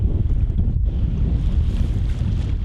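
Rough sea off the Mexican coast where a fisherman dives, heard as a loud, steady rush of waves and surf with wind buffeting the microphone, no talking.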